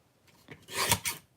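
A short rasping cut trims about half an inch off the top of a piece. The one close, brief scraping stroke swells and fades within a second, and nobody talks.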